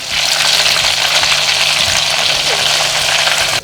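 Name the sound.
fish frying in a pan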